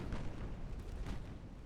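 Warship guns fire in a naval battle game with dreadnoughts and light cruisers, giving a low rolling rumble with a couple of heavier booms near the middle, moderately loud and with no voices.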